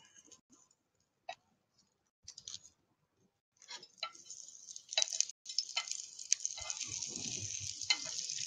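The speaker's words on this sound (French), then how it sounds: "là on est en train de surveiller la cuisson des fleurs" Stuffed courgette flowers fry in a pan. It starts as quiet, sparse crackles and builds into a steady, close sizzle with occasional sharp pops and clicks.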